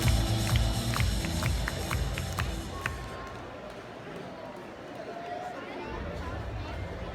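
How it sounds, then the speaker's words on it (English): Wrestling fans at an arena with an upper deck cheer in a broad, steady roar that thins midway, with a commentator talking over the crowd. "they're cheering right for him"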